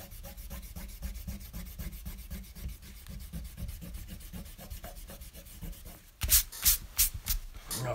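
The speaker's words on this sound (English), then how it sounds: "I'm going to use the eraser because I've done this side" An eraser rubs back and forth over an ink sketch of Superman on paper in quick, steady strokes, close and soft, ending with a few louder scrubbing passes.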